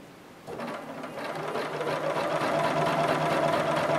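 A sewing machine stitches a Z-shaped grid design across a quilt block in dark teal thread, whirring steadily and loudly from about half a second in, with no talk over it.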